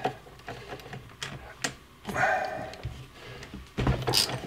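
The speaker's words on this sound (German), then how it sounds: "Jetzt schrauben wir hier erstmal die unteren Schrauben ab." Hand tools working on the lower screws of a Toro eFlex reel mower, heard as a scatter of close metallic clicks, scrapes and clunks with brief louder bursts, no speech.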